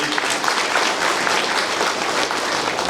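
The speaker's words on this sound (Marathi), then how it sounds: "एकदा जोरदार टाळ्या" Audience applause at a public event in the Konkan region, a dense, loud, steady burst of clapping from a large crowd, continuous for about three seconds.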